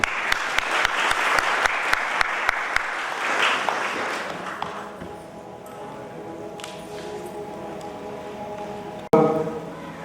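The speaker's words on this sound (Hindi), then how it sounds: "आइए जोर से ताली बजाएंगे।" Wedding guests clap loudly in a hall at a church wedding ceremony. Sharp, rapid claps open the clip, then the applause fades into quieter room murmur, followed by a sudden thump near the end.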